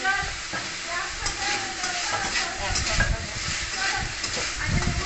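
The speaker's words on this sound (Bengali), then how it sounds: "আলুটা লাল লাল করে ভেজে নিচ্ছি।" Potatoes frying in ghee give a fairly loud, steady sizzle with stirring scrapes, while people talk in the background throughout.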